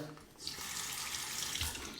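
Cold water runs from a tap onto an alum block for after-shave use, a quiet, steady close-up splash and hiss lasting about two seconds.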